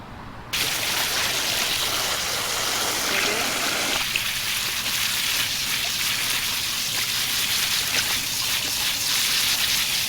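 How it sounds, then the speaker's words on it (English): A tie-dyed t-shirt is rinsed under running water, a steady, close rush of splashing flow that starts abruptly and carries on without pause. "Here to rinse out another t-shirt for you."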